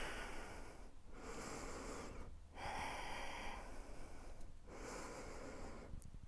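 Slow, deep breathing during a yoga warrior pose, with long audible inhales and exhales close to the mic, repeating in a steady rhythm with short pauses between and no talk.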